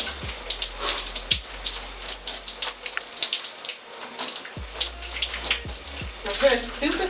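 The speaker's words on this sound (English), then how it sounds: "I'm just rinsing it off." Running water rinsing apple cider vinegar out of hair, a steady close splashing stream with irregular spatters and drips over several seconds, with no talking over it.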